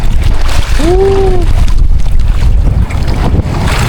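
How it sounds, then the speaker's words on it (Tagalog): Strong wind buffets the microphone on a fishing boat in big waves, over low rumbling noise at sea, with a brief rising-and-falling tone near the start. "Mahangin pa, mahangin."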